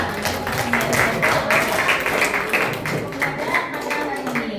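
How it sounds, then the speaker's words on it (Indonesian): An audience at a social studies teachers' forum meeting in Indonesia claps for themselves. The rhythmic, moderately loud hand clapping is steady across the room, with some voices underneath. "semuanya kita tepuk tangan untuk diri kita sendiri"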